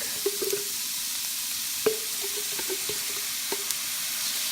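Minced garlic sizzles in oil in a pan while cooking pork binagoongan, a soft steady hiss broken by a few sharp tapping stirring strokes, close and without speech.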